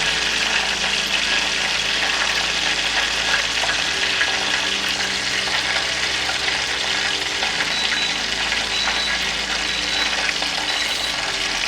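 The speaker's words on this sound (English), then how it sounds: "While that's frying away" Chicken frying in hot oil, a steady dense sizzle with crackling and bubbling that holds evenly throughout, close and loud with no talk.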